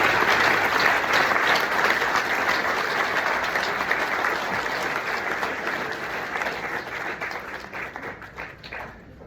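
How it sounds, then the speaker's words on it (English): Sustained applause from a banquet audience at a high school Hall of Fame event, dense steady clapping that slowly thins toward the end. "give these guys a round of applause"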